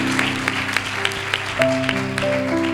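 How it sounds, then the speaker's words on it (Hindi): A church congregation clapping in a steady rhythm at a youth camp sermon, several sharp claps each second over sustained keyboard or organ chords, fairly loud and close. "ताली बजा के प्रभु को धन्यवाद दे।"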